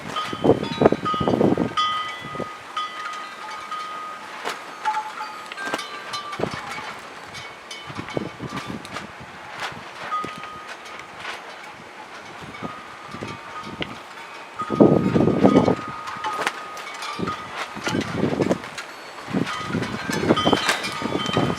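Wind gusts outdoors during fluid acrylic paint pouring, buffeting the microphone with low rumbling bursts near the start and again mid-clip, with a steady breezy rush in between.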